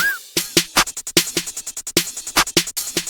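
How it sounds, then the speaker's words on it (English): A jerk-style electronic beat with a rapid sixteenth-note hi-hat pattern, punchy kicks and a crash at the start, playing loud and tightly rhythmic with no voices. "we just have the basic, most basic 16 note hi-hat pattern and some crash"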